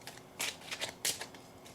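A Making Magic Oracle card deck is shuffled by hand close up, giving soft, quiet riffling bursts in a few quick pulses with no talking.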